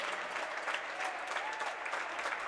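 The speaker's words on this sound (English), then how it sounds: "nice crowd reaction here for Viroqua" Crowd at a varsity boys' high school basketball game in a gym applauding steadily, a moderately distant, sustained patter of clapping without commentary over it.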